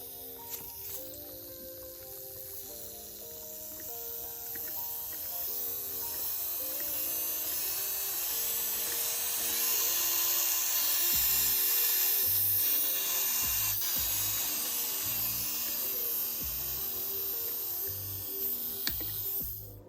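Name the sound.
electric nail drill running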